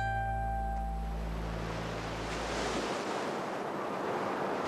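Surf at Sainte-Adresse beach washes in as a broad, continuous roar of breaking waves, steady and fairly loud, with wind noise buffeting the microphone and no voices.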